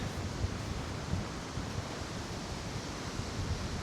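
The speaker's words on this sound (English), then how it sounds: "I hope you can hear me because it's very windy" Strong winter wind blusters across the top of a multi-stage waterfall in Wales, making a constant broadband rush and microphone buffeting with a few low thumps, with no voices.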